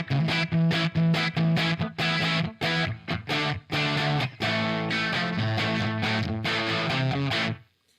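Electric guitar played through an early prototype amplifier with an echo effect, strummed in loud, distorted, rhythmic chord bursts with short gaps, then a sustained chord ringing out and cutting off abruptly at the end.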